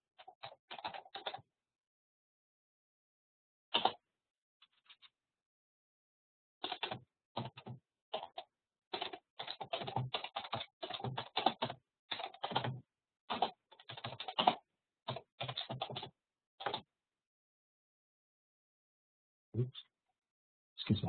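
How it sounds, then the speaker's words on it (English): Someone types on a computer keyboard in quick irregular bursts of close, crisp key clicks, with short silent pauses between runs. "Excuse my typing."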